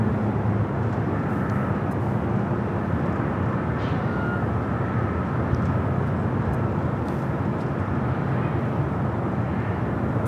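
A Qantas airliner arriving from Sydney on approach to land at Los Angeles airport, with a steady broadband jet engine roar holding fairly loud and even throughout.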